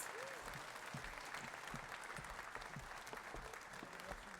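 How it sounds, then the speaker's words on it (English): A crowd at the Petoskey Chamber's annual Celebration of Champions awards event applauds recipients and winners, with dense, sustained clapping filling the room and a voice faintly beneath. "let's give everyone a round of applause, all of our wonderful recipients tonight and winners"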